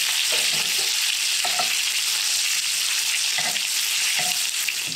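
Fish fries in a pan with a dense, steady sizzle and crackle throughout, along with a few soft stirring or utensil knocks close by.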